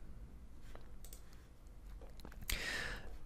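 Computer mouse clicks while working in Maya 3D software, a few soft, sparse clicks close up with a brief louder rustle near the end and no talking.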